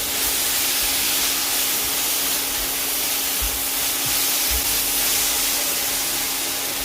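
A jaggery filling with cumin melts in a hot pan while being mixed for roll ada. It gives off a loud, steady hiss with a faint hum and a few soft knocks underneath.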